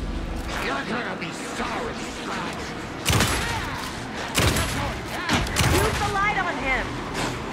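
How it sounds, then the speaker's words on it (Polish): Several loud booming blasts burst out at irregular intervals amid continuous crackling gunfire and chaotic background noise in the video game Alan Wake 2, with a voice talking intermittently. "Znowu eksplozję, trzeba się ruszyć."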